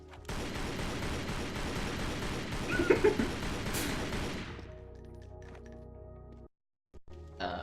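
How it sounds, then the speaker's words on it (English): Rapid gunfire from Lara Croft: Legends, a dense continuous volley of shots for about four seconds that then cuts off, leaving quieter game sounds, with brief silence near the end. "And this shooting."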